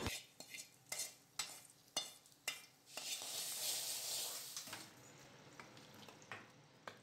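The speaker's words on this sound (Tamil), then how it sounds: "இனிமேல் இதை எடுத்து பால் கஞ்சியில் கொட்டி கிளறிக்கலாம்." Fried curry leaf tempering stirred into milk porridge: a series of sharp spoon-against-pot scrapes and clinks, then a brief hissing sizzle as the hot tempering meets the porridge, followed by a few more stirring taps.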